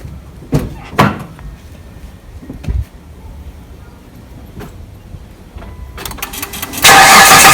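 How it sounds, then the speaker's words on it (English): Car engine cranking and starting after a few door-like thumps and clicks, the motor catching near the end and settling into a loud, close, steady running roar. "I will start this car and demonstrate to you"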